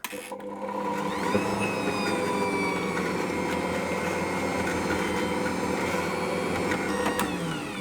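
An Ankarsrum stand mixer runs steadily, mixing milk and olive oil: a continuous mechanical whir with a rising tonal whine, heard up close and alone for several seconds.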